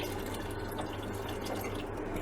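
Water is poured into a pressure cooker pot holding soaked rice for haleem, a steady close splashing stream that keeps up unbroken throughout.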